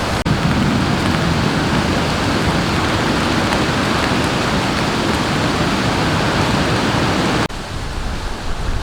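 Steady heavy rain pours down at a campsite on an abandoned urban golf course, a dense close hiss that continues without a break and eases slightly near the end.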